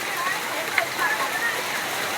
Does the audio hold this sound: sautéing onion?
no